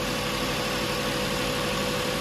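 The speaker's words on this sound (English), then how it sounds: "Okay, so the car's running, as you can hear." A 2008 Ford Taurus with a charging system failure idles steadily up close, giving a constant low engine hum and rumble with no variation and no talk.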